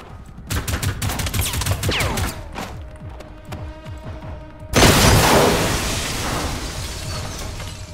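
Explosions and gunfire in the Generation Zero video game as a house is destroyed: a burst of rapid shots and blasts, then a huge loud boom with a long rumbling, crackling debris tail.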